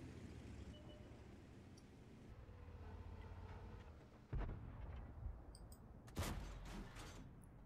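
Tank cannon shots in the video game World of Tanks sound as two heavy booming blasts a couple of seconds apart, each followed by a rumbling tail, over a quiet background of game ambience.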